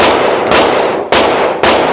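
Three sharp, loud gunshots from a Shadow Systems CR920XP pistol fired at a target at about seven yards, evenly spaced roughly half a second apart, each with a quick decaying crack and no talking.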